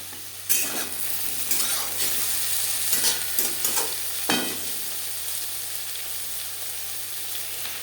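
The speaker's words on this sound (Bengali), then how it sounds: "দু তিন মিনিট নাড়াচাড়া করে দেবো ওনের সাথে বেগুন বেশ ভালো করে মিক্স করে দেবো" Eggplant stir-fried in a pan over a high-to-medium gas flame, a steady sizzle with bursts of spatula scraping and tossing, then easing into a constant hiss.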